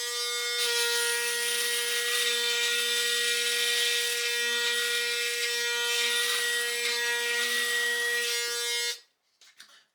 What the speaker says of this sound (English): I will fold down the trimmer and I will try to reach and clean everything with the razor.